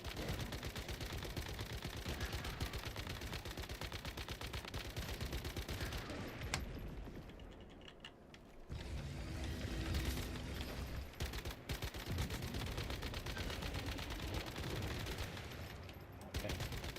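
Rapid automatic gunfire with copper bullets in the game Once Human, dense and continuous bursts that briefly stop and then resume, loud and close with no talking.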